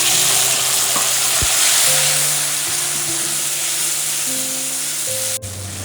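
Onions and tomatoes fry in hot oil with mustard seeds for a Nellore-style taro and mutton pulusu, giving a loud, steady sizzle with a couple of faint utensil clinks.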